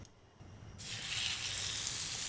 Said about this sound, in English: I'm hearing that sizzle.